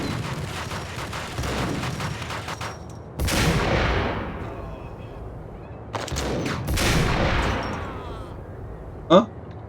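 Gunfire in the video game Max Payne, with two sharp, loud bursts of shots each trailing off in a booming decay, then a short crack near the end, set against a busy background.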